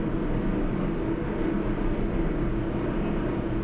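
A Bronx-bound New York City subway 4 express train on the IRT Lexington Avenue line rumbles steadily at speed, a continuous loud roar of wheels and car noise with no talking.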